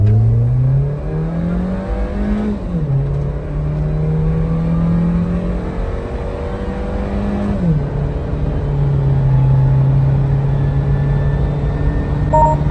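A supercharged Suzuki Jimny revs hard through a full-throttle 0 to 100 run, its engine note climbing steadily, dropping briefly at each gear change, then rising again, loud and close with no talk.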